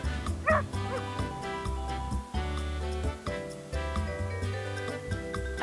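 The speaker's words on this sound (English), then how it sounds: "This is a dog." Farm dog barking in short repeated yips and bow-wows, fairly close, over steady background music with tonal lines throughout.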